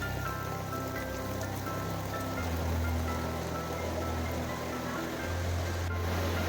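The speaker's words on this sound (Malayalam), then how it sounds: "മഴ കുത്തിമുത്ത് പെയ്യുന്നതുകൊണ്ട് തന്നെ നല്ല കാറ്റും ഉണ്ടായി അത്യാവശ്യം" Heavy rain pours down with some wind, a dense, continuous wash of noise with a low rumble underneath and no one talking.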